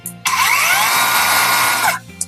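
A THAKITEC 5-inch circular saw motor whirs up, runs at a steady high-pitched whine for about two seconds, then winds down and stops.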